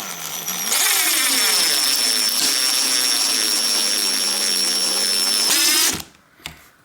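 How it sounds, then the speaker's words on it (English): An impact driver whirs loudly up close for about five seconds, screwing down a bicycle cable stop on a Shimano downtube shifter boss, with a steady high motor whine and a rising hammering rattle, then stops with a brief clack. "I have an impact driver here"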